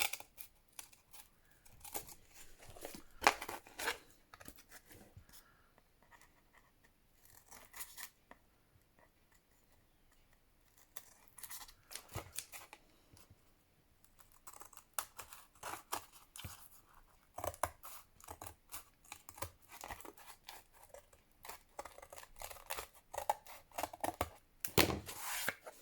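Scissors trim the extra paper from a junk journal page, making faint, close, intermittent snipping and rustling in an otherwise quiet room.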